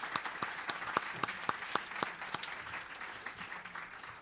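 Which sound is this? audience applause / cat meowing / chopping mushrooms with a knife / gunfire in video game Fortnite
audience applause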